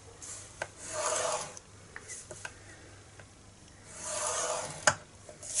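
A tool scrapes along paper to score fold lines for a handmade gift bag, giving two soft rasping strokes separated by quiet, with a few light ticks and taps between them, close and faint.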